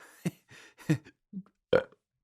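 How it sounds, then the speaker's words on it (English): Several burps in a row, short and gurgling, spaced irregularly, the last one loudest and close. "I've got a food baby waiting to be burped."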